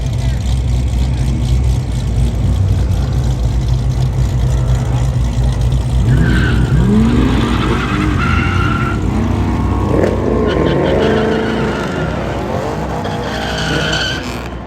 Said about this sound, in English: Some cool drag racing.